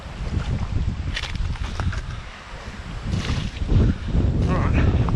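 Wind buffeting the microphone outdoors beside the water, loud rumbling gusts that swell and surge continuously.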